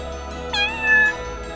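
A small white kitten, weak and chilled, lets out a single clear, rising-then-falling meow, close and fairly loud over a quiet background.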